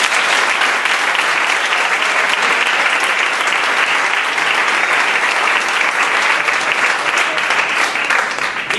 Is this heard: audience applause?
yes